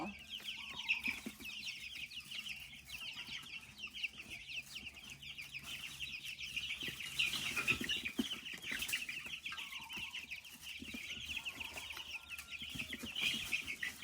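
Several chickens cluck and murmur continuously nearby, a busy overlapping chorus of soft clucks with occasional louder calls.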